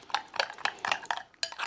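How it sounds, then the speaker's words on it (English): A red wine vinegar dressing stirred with a utensil against a bowl, a quick run of about seven light, rhythmic clinks and scrapes, fairly close and with no voices heard. "just going to stir that round"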